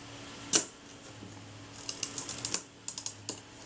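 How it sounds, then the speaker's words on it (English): A Retina IIa camera with corrosion clicks as its shutter and film advance lever release together, one sharp close snap followed by a quick run of small mechanical ticks and a second burst of clicks. "The shutter's releasing at exactly the same point that the film advance lever is releasing."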